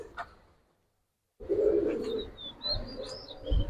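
Giribaj colouring pigeons coo in low, throaty bursts after a brief silence, with a few higher chirps and faint wing rustles nearby.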